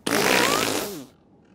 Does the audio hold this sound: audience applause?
no